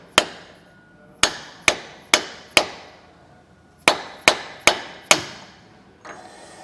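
A 1.5 inch metal socket lightly taps a washer during installation of a disc brake kit on a 2017 K-Z Sidewinder trailer: about nine sharp, ringing metallic knocks in two quick bursts, close and alone, with one fainter tap at the end.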